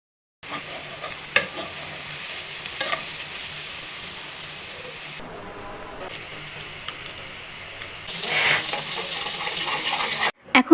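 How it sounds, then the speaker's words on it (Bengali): Egg and tomato are stirred into vegetables in a pan: crackling sizzle with irregular clinks and scrapes of a utensil, a quieter stretch midway, then a louder, hissing fry toward the end before an abrupt cutoff. "এখন আপনারা দেখতে পাচ্ছেন যে আমি এতে ডিম, টমেটো দিয়ে একটু নাড়াচাড়া করে দিচ্ছি"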